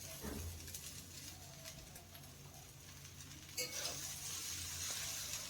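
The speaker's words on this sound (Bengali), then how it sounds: "শাকটাকে দিয়ে খুব ভালো করে এইভাবে একটু ভাজা ভাজা করে নিতে হবে" Chopped fenugreek greens fry in a pan over browned ginger with a soft, low sizzle and faint stirring scrapes, a brief clatter partway through, all quiet and near.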